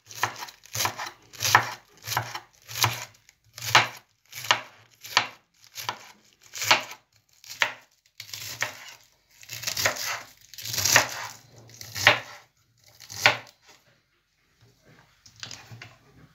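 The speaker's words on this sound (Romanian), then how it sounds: "O să încep prin a tăia fideluță varza." A knife finely shreds cabbage on a cutting board in a steady run of crisp, close chops, each stroke a short crunchy thud, pausing briefly before a last few cuts.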